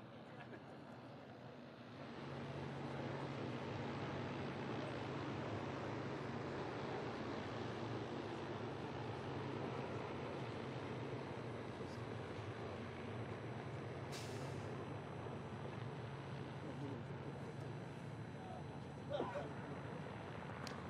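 A helicopter in flight roughly 300 to 400 meters away gives a low, steady, distant engine drone that rises out of near-silence after two seconds and holds evenly to the end.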